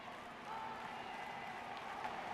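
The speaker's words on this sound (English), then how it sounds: "Just listen to that crowd." A football stadium crowd in Singapore at an Indonesia versus Thailand final, cheering and applauding as a broad, steady roar heard from a distance and fairly faint.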